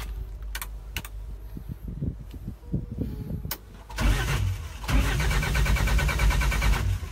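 A car engine cranks and catches midway, then runs loud and close with a steady rumble, after a few quieter knocks and clicks.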